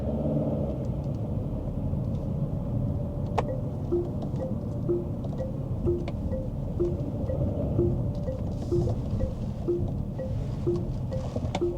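An Omoda C5 with a 1.5-litre turbo engine and CVT gearbox creeping through heavy Auckland traffic, heard from inside the cabin as a steady low rumble with soft road noise and a faint repeating ticking.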